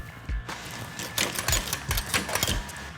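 A 40-year-old motorcycle engine with fuel in the carburetors is cranked over by its starter, producing a rhythmic, uneven chugging of compression pulses at moderate volume, close up, without firing.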